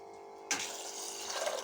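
Water pouring into a pressure cooker holding soaked chickpeas, a sudden close, splashy rush that starts after a short silence and continues steadily to the end.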